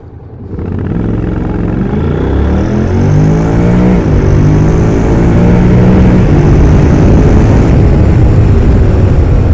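A Honda NC750X DCT motorcycle in manual mode accelerating hard toward 100 km/h, its engine loud and close, rising in pitch through a gear change and pulling steadily with wind noise and no talking.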